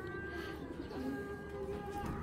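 A racing pigeon coos softly and continuously, a low murmuring call heard faintly against a hum of background noise.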